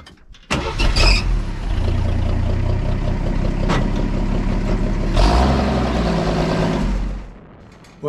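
A Trap Wagon vehicle's engine starts and pulls up the Winchester Grade, giving a loud, sustained motor drone with a surge partway through before it fades toward the end.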